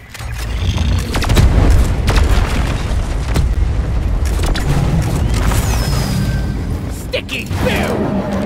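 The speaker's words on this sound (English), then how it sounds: "Sticky boom." A sticky grenade goes off in Deep Rock Galactic: a loud, sustained low boom that rolls on for several seconds with crackling debris and mechanical clatter, heard at close range.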